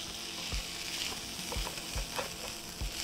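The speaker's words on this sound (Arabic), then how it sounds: "وبرده هشوح السمك" Fish fillets sauté in a hot pan with a steady bright sizzle, punctuated by a few soft knocks from stirring or turning.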